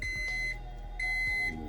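A dosing alarm sounds in short electronic beep bursts, two clear tonal pulses separated by a brief pause, fairly quiet and alone.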